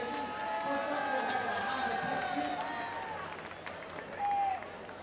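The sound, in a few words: raucous hockey crowd cheering at RPI vs Union game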